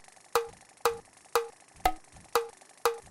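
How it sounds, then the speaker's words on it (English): A metronome in the video game Yeeps ticks steadily at 120 BPM: six crisp, evenly spaced clicks with a short tonal ring, two per second, the fourth one accented with a deeper thump. Nobody talks. "This has 120 beats per minute, which sounds like this."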